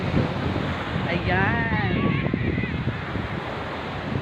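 Sea waves and gusty wind rush in a steady, loud wash at Baybay beach. A voice briefly speaks over the noise.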